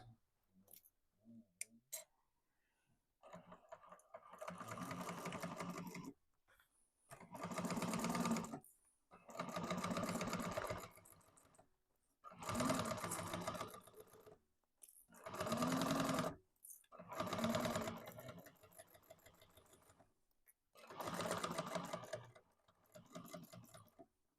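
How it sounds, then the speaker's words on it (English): A sewing machine chain-stitches a tote bag in several separate runs of steady, close mechanical whirring with short quiet pauses between them and no talking. "I'm going to chain stitch them."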